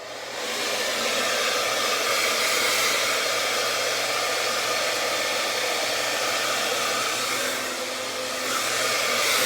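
A hair dryer blows on hair at a low heat setting with the cool air running, a loud, close, continuous broadband whoosh that dips briefly near the end and then resumes, with no voices.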